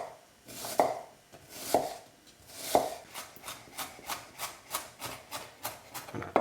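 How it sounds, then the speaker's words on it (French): A knife chops an onion finely on a board for a Lebanese tabbouleh, slow spaced thuds at first, then a quicker steady run of about ten crisp cuts, close and fairly quiet. "On va prendre l'oignon. Et pareil, on va le hacher très finement."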